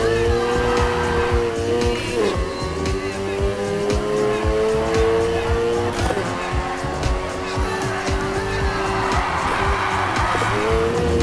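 Cars drifting in the racing video game Need for Speed Heat, with a continuous loud engine roar and sustained tire squeal through long slides, shifting pitch as the car swings, with a game voice talking over it.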